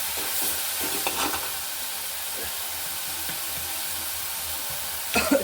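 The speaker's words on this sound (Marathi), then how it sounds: "वांगा फक्त भाजायचा." Eggplant roasting in a pan gives off a continuous soft hiss and sizzle, broken by occasional faint scrapes and a brief louder rattle near the end, with no voices.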